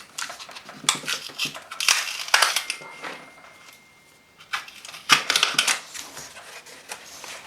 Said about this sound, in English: we figure we'll slice a little bit right here. With a better X-Acto blade.